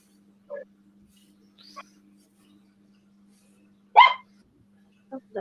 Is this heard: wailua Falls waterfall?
no